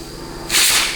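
Compressed air bursts from a rubber-tipped nozzle into the clutch circuit of a 4L60E automatic transmission: quiet background, then a sudden loud, steady hiss that begins halfway and holds to the end, close by.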